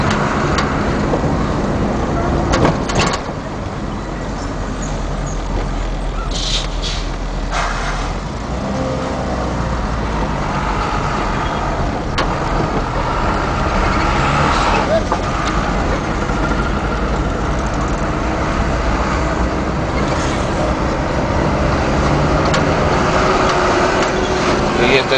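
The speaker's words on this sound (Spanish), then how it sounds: "allá arriba se ven los coches, los autobuses." Continuous rumble of cars and buses in Bogota street traffic, engines idling and droning at a distance with a steady wash of noise throughout.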